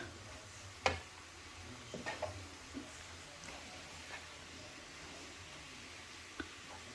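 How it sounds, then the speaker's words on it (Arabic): Thinly sliced onion, garlic and peppers frying gently in a pan, a soft low sizzle broken by a few sharp clacks and stirring knocks. "وغادي نخلي دابا هادشي ديالي كيتشحر هنا كيتقلى مزيان"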